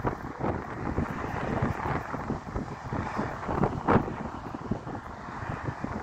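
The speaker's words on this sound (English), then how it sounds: "Sorry about all the wind." Strong wind buffets the microphone at an outdoor train station in Hastings, Australia, a continuous loud rushing roar with gusty bursts throughout, with no other sounds standing out.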